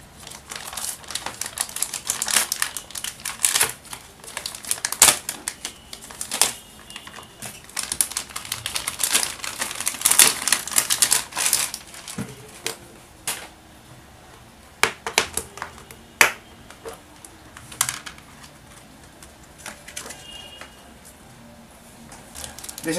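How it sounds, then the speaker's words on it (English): Cardboard box and plastic packaging of a Vega RoboKit RF transmitter and receiver soldering kit being opened and handled, giving irregular crinkling, tapping and rustling bursts with sharp clicks, close up and fairly steady across the whole stretch, no talking. "So let's go ahead and unbox this."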